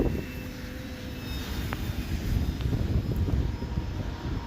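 An E-flite Ultimate 3D RC airplane flying in the rain, its electric motor a thin, steady distant whine mixed with rumbling wind and rain noise on the microphone, with no voices.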